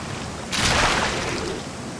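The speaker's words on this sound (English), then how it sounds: "Another gaming rule is check behind every waterfall." A waterfall in the video game Elex 2 rushes into hearing as a steady broadband roar, rising abruptly partway through and holding loud, close and continuous with no voices.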